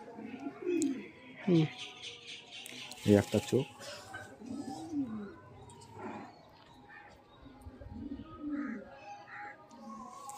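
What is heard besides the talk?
pigeon cooing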